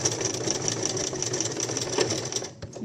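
A sewing machine stitches a bias strip for a placket, a steady fast rhythmic whirring at moderate level that stops near the end.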